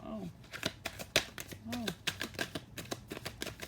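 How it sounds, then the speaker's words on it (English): Tarot cards are shuffled by hand in quick, crisp riffles and taps, close and fairly quiet, while a person speaks intermittently over them. "Let me just get one shuffle in and see what comes out."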